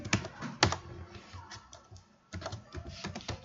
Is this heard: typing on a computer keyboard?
yes